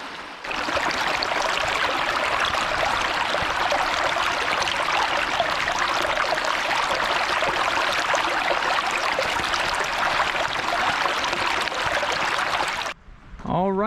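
Creek water rushes steadily near Brandywine Falls in Cuyahoga Valley National Park, Ohio, a loud, continuous broadband flow that cuts out briefly near the end.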